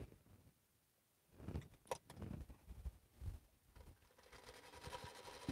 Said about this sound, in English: we're just going to sew a test piece to make sure it's working here